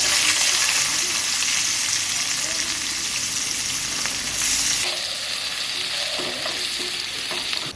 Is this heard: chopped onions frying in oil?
yes